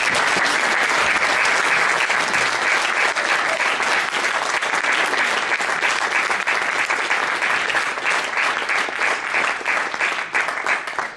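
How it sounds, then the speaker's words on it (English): A college Young Republicans forum audience applauds the candidates at the close of a debate: loud, dense clapping from many hands, sustained for about eleven seconds and tapering slightly at the end. "We'll get a round of applause for the candidates."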